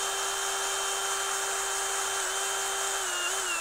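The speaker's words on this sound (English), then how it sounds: "drill through that without touching the cables" A small electric drill whines at a steady high pitch, close and continuous, as it gently bores a hole through the body of a 1/5 scale HPI Baja 5B gas RC car, the pitch dipping slightly near the end.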